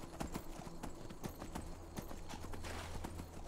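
Horse hooves clip-clop in a steady rhythmic gait in the video game Skyrim, a fairly quiet run of repeated hoofbeats over soft background game ambience.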